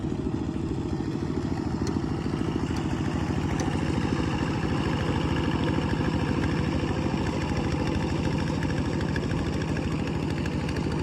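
A Kubota tractor engine running steadily at a communal ploughing event, a low chugging idle with a constant rhythmic clatter, close and unbroken throughout, with no voices.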